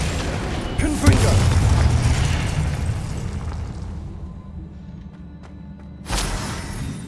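Spells are cast in the Hogwarts Legacy game, with a deep booming explosion rumbling and decaying over several seconds, then a second sharp burst near the end, while a voice calls out incantations.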